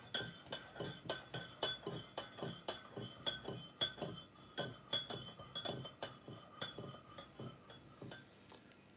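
A spoon stirs a turmeric drink in a glass, giving quick, rhythmic clinks against the sides, about two per second, close and fairly quiet, with no voices.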